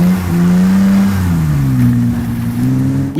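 Lamborghini replica engine pulls hard on an ice track, a loud close-up drone rising and shifting in pitch as it revs and accelerates, with no talking.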